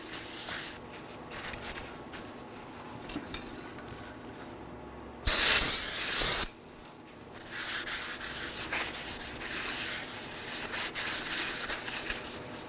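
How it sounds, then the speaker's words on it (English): A burst of parts cleaner sprays onto the brake surfaces of a 2013-2019 Nissan Sentra for about a second, framed by quieter rag rubbing and wiping before and after, close up with no talk. "We'll use some parts cleaner and a clean rag for this."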